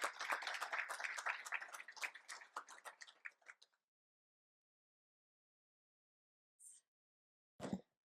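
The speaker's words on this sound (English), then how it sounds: "Round of applause" Brief, sparse applause from a modest audience at a mayor's forum on agriculture, welcoming a provincial agriculture minister; the scattered claps thin out after a few seconds into silence, followed by a couple of isolated faint knocks.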